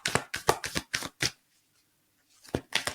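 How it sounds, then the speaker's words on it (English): A deck of cards is shuffled close up in quick riffling bursts, a sharp flurry for over a second, then a pause of near silence before another short burst of shuffling. "3 more shuffles of this deck and then I'll change decks"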